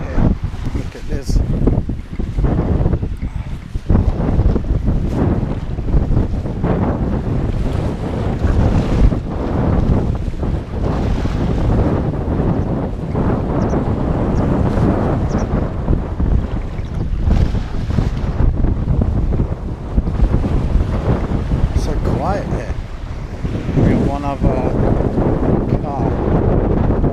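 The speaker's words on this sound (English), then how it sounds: "It's so overcast, so breezy." Steady wind buffeting the microphone over surf washing onto the shore along an overcast, breezy coast at Mackenzie Beach near Larnaca, Cyprus, loud and continuous throughout with no clear voices.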